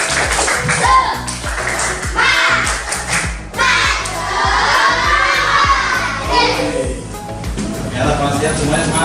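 Schoolchildren in a multi-grade classroom do a rhythmic spirit clap, sharp claps in a regular pattern mixed with loud shouting and chanting from the group, close and energetic throughout.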